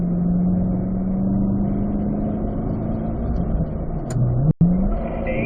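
A race car brakes into a track chicane and downshifts to third, its engine droning steadily before a brief dip and a quick rising rev near the end.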